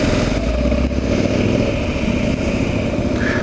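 A motorcycle on the road, its engine holding a steady, continuous drone with wind rush, loud and close, with no talking.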